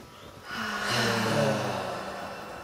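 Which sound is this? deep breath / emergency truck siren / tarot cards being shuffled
deep breath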